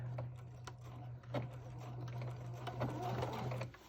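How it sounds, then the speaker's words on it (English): A sewing machine runs steadily, stitching the side seam of a Regency-style dress, its motor hum constant for several seconds with small clicks and handling sounds, close and moderately quiet with no talking. "We just sew down one side, and then we sew down the opposite side."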